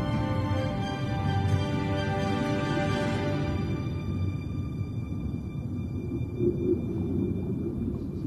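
A humpback whale vocalizes underwater with a long, tonal moan that rises and then fades. A steady low rumble of ocean ambience runs throughout.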